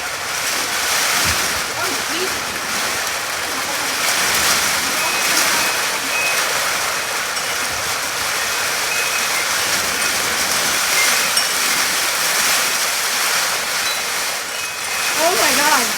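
Heavy rain pours steadily during a haboob dust storm with lightning in Phoenix, Arizona, a dense, loud, unbroken roar of water throughout, with brief excited speech rising over it near the end.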